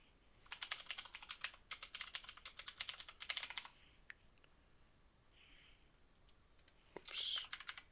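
Computer keyboard typing a storage container name: quick bursts of soft close key clicks in two runs, then a pause and a few scattered taps, faint and with no talking.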